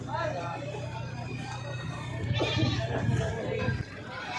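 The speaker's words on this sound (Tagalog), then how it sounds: "Ang lalaking kambing po na nakaparada ngayon dito" Male goats held for sale at a rural provincial market bleat nearby in several short wavering calls, with people talking in the background throughout.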